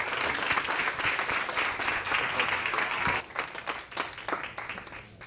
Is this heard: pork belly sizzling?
no